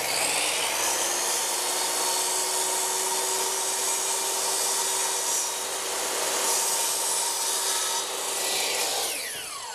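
Saw blade cutting through wooden door casing trim, a steady loud rasping buzz that holds evenly for several seconds before easing at the end.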